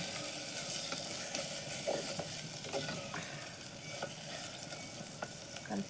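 Brinjal and tomato sizzling in hot oil in a clay pot while being stirred, with a steady broadband fry hiss and scattered soft scraping knocks of the spoon throughout.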